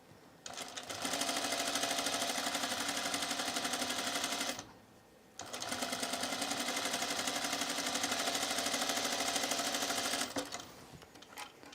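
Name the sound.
sewing machine stitching a dress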